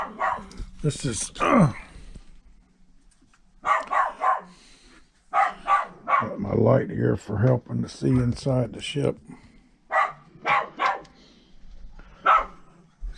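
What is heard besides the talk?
dogs barking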